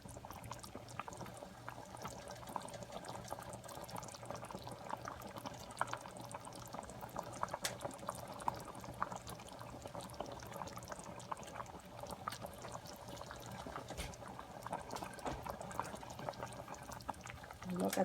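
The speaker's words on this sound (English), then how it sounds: "As you guys can see, it's boiling." Macaroni, ground beef and potato soup boils steadily in a pot over medium heat, a continuous close bubbling and simmering hiss with no break throughout.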